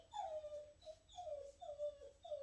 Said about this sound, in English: if you hear any whimpering in the background, we are presently fostering a very sweet but incredibly clingy 3-year-old pit bull